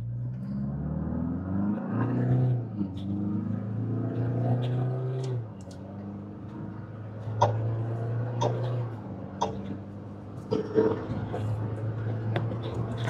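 A Tata Harrier SUV in sport mode pulls hard from a standstill toward 100, its engine droning and rising in stepped revs through gear changes, steady road rumble beneath and small ticks and clicks inside the cabin.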